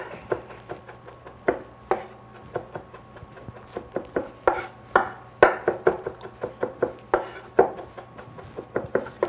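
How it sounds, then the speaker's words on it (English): Fresh cilantro being rough-chopped with a knife on a cutting board, a run of sharp, irregular close taps that speed up into bursts, with no voices. "I'm basically going to take this cilantro and chop it up."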